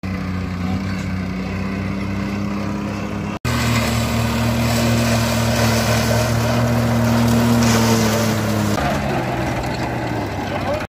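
In a field in Rajasthan, a tractor-driven mobile shredder chopping wood drones loudly and steadily at close range, its engine pitch dipping slightly near the end, with a brief cut partway through.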